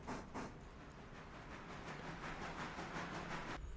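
A passenger train rolls along in the railroad video game Railroader, a faint, steady rumble with soft rhythmic clicks of wheels on track and a brief hiss.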